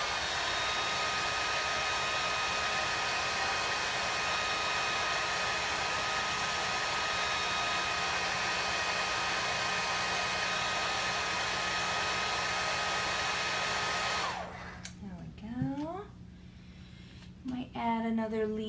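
A hair dryer blows steadily on leaves, a loud continuous whine with a humming tone, then cuts off abruptly near the end, followed by brief handling noises and a short voice.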